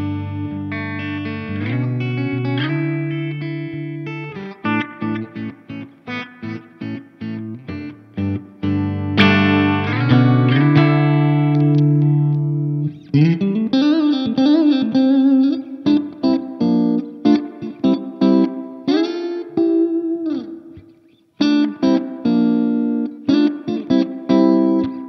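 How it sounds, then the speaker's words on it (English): Electric guitar played through a Laney Lionheart Foundry Super 60 1x12 amp with its reverb turned up, loud and close: distorted chords and single-note phrases ring out with lush reverb tails, without any talking. "it's a really lovely reverb."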